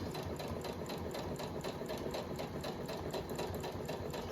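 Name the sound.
sewing machine stitching a jacket seam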